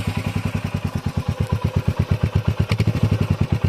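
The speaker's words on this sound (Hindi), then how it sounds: "बाइक स्टार्ट करो।" A Royal Enfield Meteor 350 motorcycle engine runs steadily and close by, with its exhaust giving a loud, even thumping pulse and a brief throttle blip near the end.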